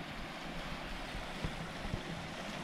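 Strong river current rushing just below a waterfall in the forest, a steady broad roar with a couple of faint splashes, no talking.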